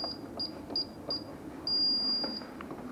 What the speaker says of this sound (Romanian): Dezactivez alarma.